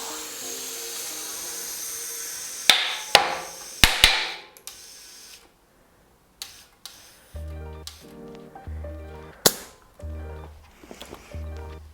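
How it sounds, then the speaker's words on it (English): A tubeless bicycle tire being inflated with air hissing, then its bead snapping onto the rim in several sharp pops, mixed with a few brief clicks and mechanical ticks. "as you could hear from the pops, it's seated nicely for the first try"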